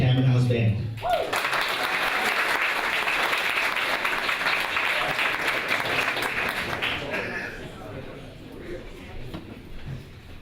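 Sustained applause from an audience at a school performing-arts festival show, loud and steady for several seconds after an opening burst of sound, then gradually fading toward the end.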